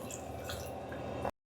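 Water splashes and trickles steadily into a pan of spinach purée and boiled chickpeas for a curry, a close, continuous liquid pour that stops abruptly.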